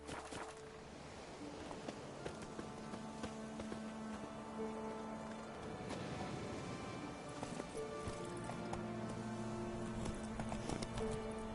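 Roach the horse galloping in The Witcher 3 video game, a continuous run of hoofbeats at moderate distance under sustained music tones, with no talking.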